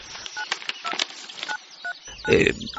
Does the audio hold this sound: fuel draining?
no